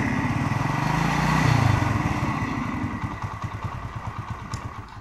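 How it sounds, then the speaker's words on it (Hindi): A motorcycle engine runs just after a kick start, a close, rough putter that swells briefly then settles into an uneven idle with audible clatter. "ये देखिए मोटरसाइकिल स्टार्ट हो गया,"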